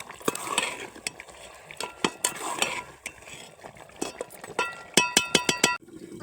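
Mutton curry stirred in a cooking pot, a spoon scraping and knocking against the metal in irregular strokes, closing with a quick run of sharp clinks, close and fairly loud.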